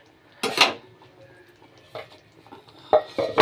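A spatula scrapes and clatters against a pan in four bursts while catla fish head curry spices are sautéed with salt, turmeric and Kashmiri chili powder. The scraping is close and distinct over a quiet background, with no talking.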